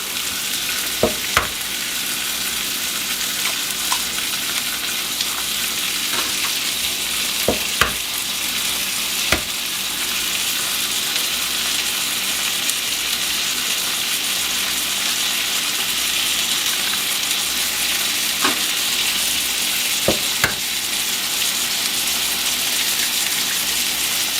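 Hamburger patties fry in a pan with a loud, continuous crackling sizzle, broken now and then by faint clicks and scrapes from handling.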